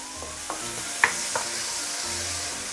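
Chili sautéing over medium heat in a pan for fried mee siam, a soft steady sizzle punctuated by a few light clinks and scrapes of a spatula stirring.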